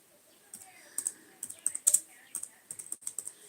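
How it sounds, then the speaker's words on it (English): Fingers tapping on a computer keyboard in irregular bursts of clicky keystrokes, fairly close and moderately loud, with brief pauses between clusters and no talking. "But let me type here,"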